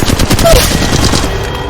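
Rapid automatic weapon fire in Apex Legends Mobile, a loud continuous burst of gunshots filling the short stretch without pause.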